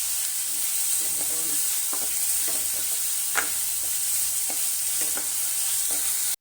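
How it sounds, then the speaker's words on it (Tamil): Tomatoes sautéing in a pan for mutton kola urundai kulambu, a constant bright sizzle with occasional stirring taps, steady and close until it cuts off abruptly. "தக்காளி நல்லா வதங்கிடும்"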